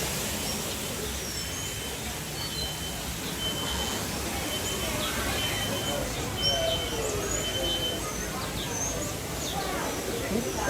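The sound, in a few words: birds in an aviary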